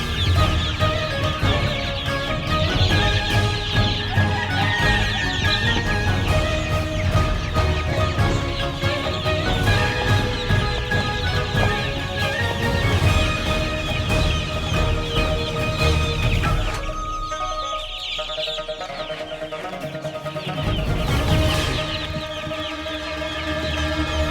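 Many young native DW chicks in a large, newly renovated pen cluck and cheep in a dense, continuous chorus that carries on steadily throughout, with no talking.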